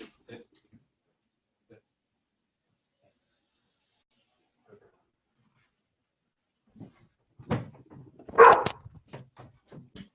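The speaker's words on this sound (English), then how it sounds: "Sorry for the barking." A dog barks indoors: a quiet stretch with a few faint sounds, then a short burst of loud, close barks and whimpers near the end.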